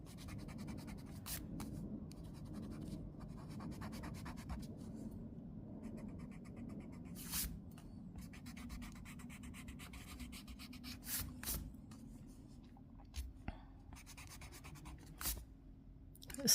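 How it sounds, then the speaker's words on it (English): Eraser rubbing over a pencil drawing of a tea cup: soft, continuous scrubbing on paper, close but faint, broken by a few sharp taps and scratches, with no voices. "So we'll erase it up here."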